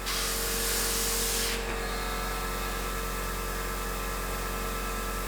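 A Procon Boy WA trigger-type airbrush with a 0.3mm nozzle sprays paint in a steady, close, continuous hiss, strongest at the start and then holding slightly lower as the flow is limited.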